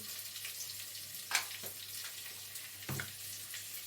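Turmeric powder hits hot oil in a frying pan while sea crab cooks, giving a steady close sizzle with a few louder hissing bursts as the contents are stirred.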